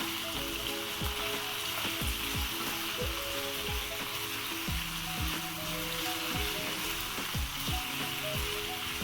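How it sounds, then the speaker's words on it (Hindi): Chicken sizzles steadily in a pan with masala spices, a constant close frying hiss broken by repeated clinks and scrapes of stirring. "इसे हम थोड़ी देर फ्राई करेंगे, मसाला के साथ भूनेंगे इसे"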